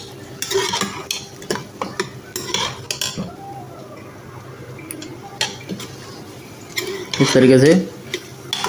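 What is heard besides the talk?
stirring chickpeas roasting in a pot with a spoon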